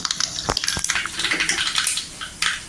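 Mustard seeds sizzle and pop in a spoonful of hot oil in a pan, a run of sharp crackles and spits over a brief span.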